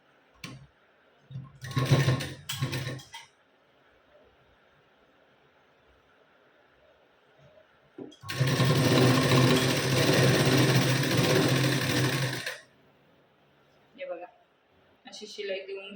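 A sewing machine stitches along the folded quarter-inch edge of a blouse in two runs, a short choppy burst and then a longer steady whir of about four seconds. A voice talks quietly in the pauses.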